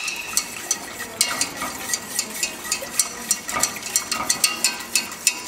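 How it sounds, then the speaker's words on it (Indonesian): A whisk clatters rhythmically against a pot as vegan cake mixture is beaten, with quick regular metallic scrapes and taps, close and fairly loud, and no speech. "I'm just going to use a whisk because it's getting a bit sticky."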